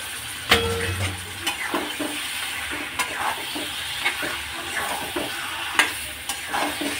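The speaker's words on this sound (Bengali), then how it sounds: "তারপর এখানে মাংসটা দিয়ে দেবো।" Meat is tipped into spice masala frying in oil and stirred. A loud, steady sizzle runs throughout, broken by repeated spoon scrapes and knocks against the pan, close up with no talking.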